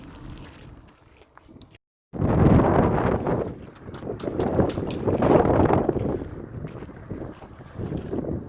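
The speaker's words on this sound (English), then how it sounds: "So it's pretty windy out here. You won't be able to hear very much other than the wind." Strong wind blows outdoors near Calico, California, buffeting the microphone in loud, rushing gusts that rise and fall over several seconds, after a short quiet stretch and a brief dropout.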